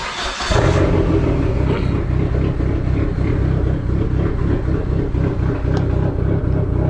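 A Dodge SRT-4 engine runs steadily with the car up on a floor jack for a transmission test, a loud, close, continuous rumble with a slight rev at the start.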